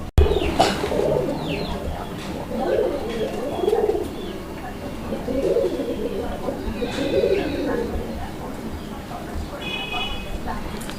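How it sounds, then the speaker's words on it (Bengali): Pigeons in a breeding loft coo repeatedly in low, throaty phrases close by, layered with faint chirps and some background talk. "প্রত্যেকটা কবুতর মার্শাল আজকে কিন্তু একদম পুরাই ব্রিডিং মুডে আছে"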